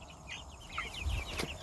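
Chickens and roosters in a farm yard cluck softly, a few short calls scattered over a quiet background, faint and fairly distant with no talking.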